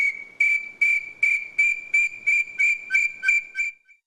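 Bird call whistle from the Maurílio Coelho bird call factory imitating an inhambu (tinamou): a steady, clear whistle note repeated about ten times in an even rhythm, close and loud, with no talking.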